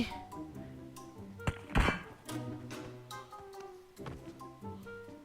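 Bullets striking a car in PUBG Mobile land as a few sharp, hollow thunks, a cluster near the middle and another later, over a steady bed of in-game engine and ambient noise.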